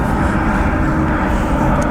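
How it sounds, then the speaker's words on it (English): An airplane passes overhead above an allotment garden plot, giving a steady, loud low engine rumble that fills the short stretch without any talk. "And there's a plane going over."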